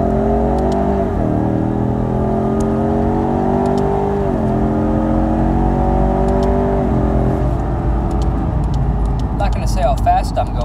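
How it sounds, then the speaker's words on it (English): 2018 Ford Mustang EcoBoost with a 10-speed automatic in sport mode accelerates steadily, engine tone climbing then dropping at each of several gear changes, heard loud from inside the cabin with brief voice at the end. "you probably heard the gear changes right there"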